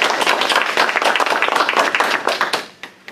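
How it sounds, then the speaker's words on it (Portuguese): An audience at a coaching workshop bursts into dense applause, many hands clapping loudly and continuously for about three seconds before tapering into a few scattered claps. "Uma grande salva de palmas para vocês."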